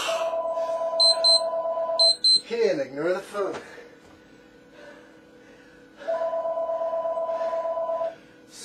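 A telephone rings in repeated electronic bursts, two long trilling rings separated by a pause, with a clatter and a voice in between, loud and close during an at-home workout session.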